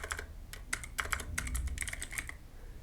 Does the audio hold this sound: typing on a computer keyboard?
yes